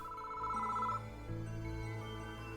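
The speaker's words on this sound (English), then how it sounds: "The phone suddenly started ringing." A public phone box rings in the horror video game Spirit Hunter: Death Mark, a steady electronic tone with a higher note that drops away, leaving lower tones, moderately quiet with no talking.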